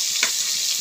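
Food sizzling in a pan with cumin, onion and green chilli in oil, stirred with a ladle, a short steady hiss with a faint scrape and no talk.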